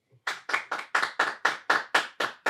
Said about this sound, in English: He's still clapping.